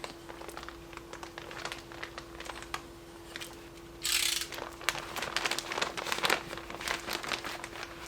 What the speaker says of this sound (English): All I was doing is cutting the fiberglass, a little slit in it about halfway into the depth